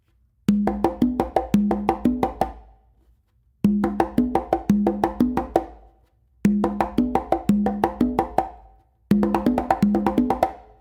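Hand drumming on congas and tumba, a multi-part workout pattern played twice through, heard as four dense bursts of quick, crisp slaps and open tones separated by short pauses, close-miked and alone.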